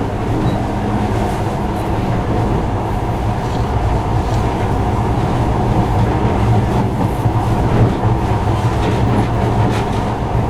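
A monorail train in the game Metro Last Light rumbles along with a loud, steady low drone and faint rhythmic clatter, continuous throughout and with no talking.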